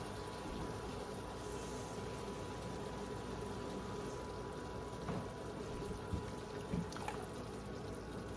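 Water poured from a cup into a pan of browned bison meat for a spoon burger, a steady liquid wash with a few faint splashes, low and continuous.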